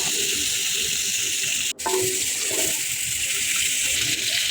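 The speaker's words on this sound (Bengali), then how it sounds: "এখানে মাছটা আমি অতিরিক্ত ভেজে নেব না, একটু হাই ফ্লেমে একটু মোটামুটি ভেজে নিচ্ছি" Fish fries in a pan over a high flame for a winter vegetable fish curry, making a constant bright sizzle broken once by a brief dip and a small clink, then hissing on steadily up close.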